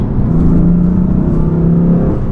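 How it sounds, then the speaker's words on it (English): A manual BMW M4 sports car engine drones loudly and steadily up close, with a rising turbo whine and throaty rumble as it accelerates. "you can definitely feel the turbos kick in every time you stomp on"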